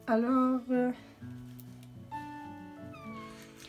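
A small kitten meows loudly twice, close up, then softer tonal mews and squeaks follow indoors.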